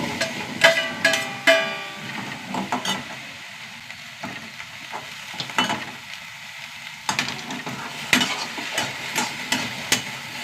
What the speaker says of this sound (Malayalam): ആദ്യം വെണ്ടയ്ക്കൊന്ന് വറുത്തെടുക്കാട്ടാ